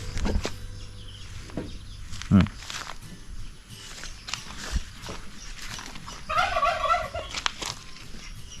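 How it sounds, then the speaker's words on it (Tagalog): Turkeys gobbling on a farm, a few loud bursts of gobbling among rustling, footsteps and background noise, with people talking nearby. "Galit sa akin itong mga birds eh"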